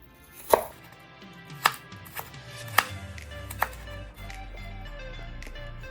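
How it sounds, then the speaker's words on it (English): A knife chops a lobster roll filling finely on a cutting board, a handful of sharp, close knocks at uneven intervals over a low steady background hum. "So we're gonna chop these finely."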